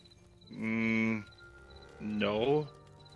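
A cow in the video game Mortal Online 2 gives two drawn-out, harmonic moos about a second apart, close and clear above a faint ambient background.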